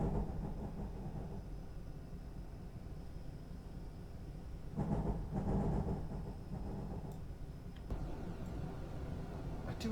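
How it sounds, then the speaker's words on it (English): An ICE4 high-speed train in the Train Simulator 2021 video game rumbles along the Frankfurt to Mannheim route, a steady low drone and wind rush with a louder surge midway and faint clicks. "I do enjoy route learning in these lovely high-speed trains."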